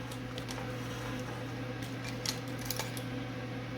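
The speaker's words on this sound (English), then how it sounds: "So I take my corners, my felt, and I just cut them in so I can fold them and cut whatever I don't need." Scissors snipping felt corners for a resin-coated clutch purse, a few faint, sparse clicks of the blades over a steady background hum, no talking.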